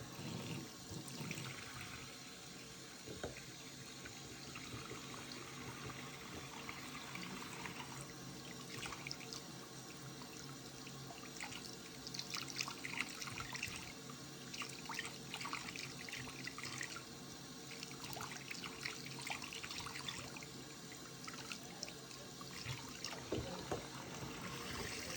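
A tap runs while a CD is rinsed, a quiet steady stream of water with uneven splashes and trickles as the disc moves under it, faint and continuous for about 25 seconds.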